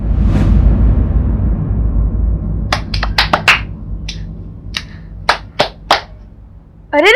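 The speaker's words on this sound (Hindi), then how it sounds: "तालियां।" A handful of people clap for a winner in a TV crime drama scene, giving scattered, sharp handclaps after a low rumble, with a voice starting right at the end.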